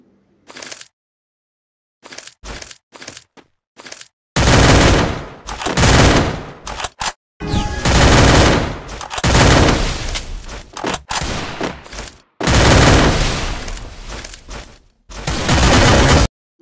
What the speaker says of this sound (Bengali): Last round headshot Bhuiyan.